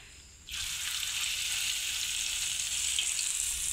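Food frying in a pan with oil, a steady broadband sizzle that switches on abruptly and holds loud and close without a break.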